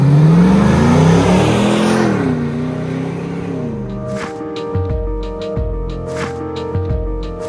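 A custom Land Rover Defender 110 soft-top with a 430-horsepower LS3 V8 and six-speed automatic revs loudly and rises in pitch for about four seconds, then music takes over.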